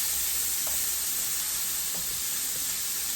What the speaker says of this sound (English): we're just going to let these saute real quick for about 2-3 minutes, just to soften them up